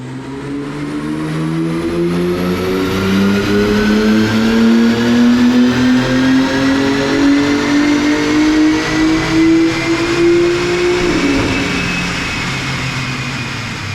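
A BMW G80 M3 Competition with the 3.0-litre S58 twin-turbo straight-six pulls on a dyno, a loud, steady full-throttle run whose engine note climbs smoothly in pitch for about eleven seconds, then falls away as the throttle lifts.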